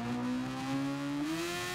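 A car engine in GT Sport holds a steady, fairly loud droning tone that climbs slightly in pitch, alone with no voices.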